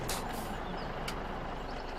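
Trucks idling in traffic inside the Farming Simulator 17 game, a steady broadband engine rumble with a short hiss of air brakes near the start and again midway, loud and continuous with no talk.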